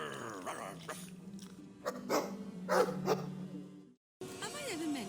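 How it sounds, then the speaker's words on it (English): A dog in the Dragon Age 2 video game barks and growls several times, close and fairly loud, mixed with game sounds before a brief drop to silence. "woof to you too"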